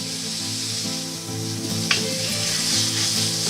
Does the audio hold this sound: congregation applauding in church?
no